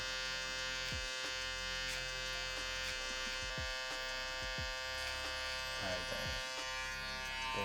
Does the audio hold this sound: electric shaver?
yes